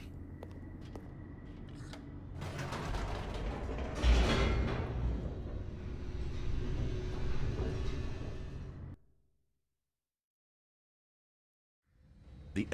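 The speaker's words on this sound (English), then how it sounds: "The elevator raced downward, plummeting towards an unknown fate." Mechanical rumble and clatter of an elevator descending in The Stanley Parable: Ultra Deluxe, loud and steady with a surge midway, then cutting off into silence before a faint return.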